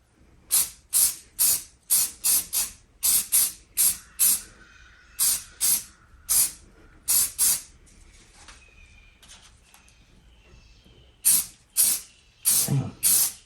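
Camouflage spray paint hissing through a stencil onto a boat, in many short bursts, each about half a second, fired in quick clusters with a quieter gap in the middle.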